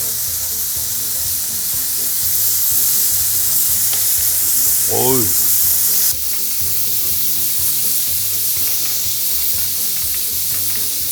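Vegetables sizzle and hiss steadily in a hot pan while stir-frying for a Chinese-style spicy pork noodle dish, with occasional stirring and a brief exclamation from a voice.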